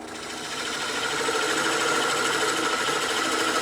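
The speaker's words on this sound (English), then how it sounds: "I'm going to use a bowl gouge here" A bowl gouge cuts into a spinning cylindrical wooden box blank on a wood lathe, giving a steady, continuous whirring scrape that swells over the first half second and then holds loud and even, with no talking.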